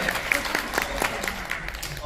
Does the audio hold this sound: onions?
no